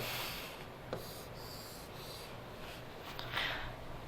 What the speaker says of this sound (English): let's start off just by drawing out a rectangle